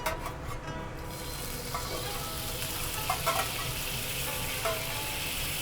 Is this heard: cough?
no